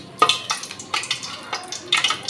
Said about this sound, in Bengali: তেল দিয়ে দিলাম মুগ ডালটা রান্নার জন্য। আর এখানে দিয়ে দিলাম তেজপাতা